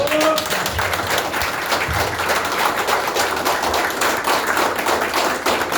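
Sustained, dense clapping from a business presentation audience, many hands patting together at an even level throughout, with only a brief voice near the start.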